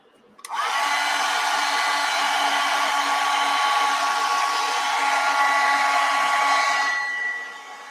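A hair dryer blows steadily and close at hand over a watercolor painting of garden flowers, switching on with a sudden start and running as a constant loud whoosh for about seven seconds before easing off.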